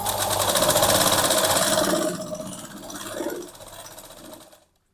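An electric sewing machine runs fast and close, stitching a yoke strip on a blouse, its rapid rattling hum steady for about two seconds, then slowing through shorter bursts before stopping.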